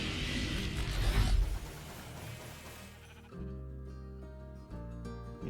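Minecraft sheep bleating, a couple of clear, nasal bleats following a burst of louder game noise, heard close and distinct.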